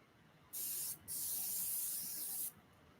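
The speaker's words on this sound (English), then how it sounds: "I'm gonna try not to spray my face" Two bursts of perfume spray hiss up close, a short puff followed by a longer, steady spray lasting over a second.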